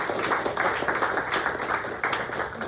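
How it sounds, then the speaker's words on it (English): An audience at a live spoken word poetry event in a gallery gives sustained applause, a dense steady wash of many hands clapping in a room, even and continuous with no voices standing out. "And another round of applause for all 3 of our trio of fantastic features."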